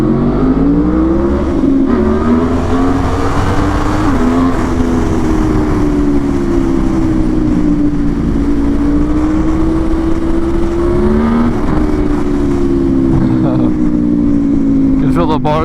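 Aprilia RSV4 sport bike engine revving hard on a street ride, a loud, sustained howl rising and falling with throttle, mixed with wind rush throughout.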